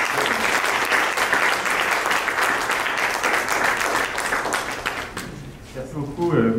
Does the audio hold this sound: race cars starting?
no